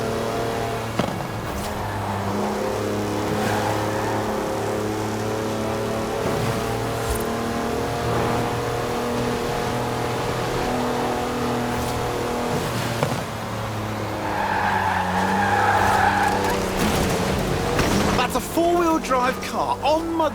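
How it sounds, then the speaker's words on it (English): Forza Horizon 4 car drifting completely sideways on mud tyres, its engine droning loudly and steadily with rising revs and a brief squeal near the end, under a voice talking throughout. "Drive car on mud tyres completely sideways."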